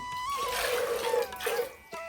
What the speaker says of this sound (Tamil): அந்த பட்டாணி மூழ்கிற அளவுக்கு தண்ணி சேர்த்துக்குவோம்